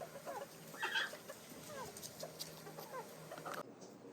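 Chickens cluck and squawk intermittently at a farm during extreme heat, a few brief calls standing out over a quiet, steady outdoor background.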